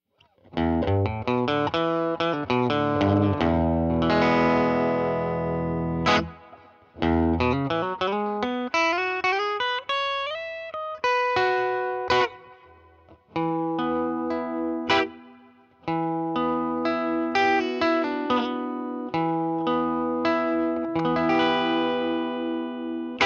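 An electric guitar plays through a Purdy reverb pedal into a tweed amp, with chords and single-note phrases ringing out under an audible reverb tail. The playing comes in several bursts with short gaps in between.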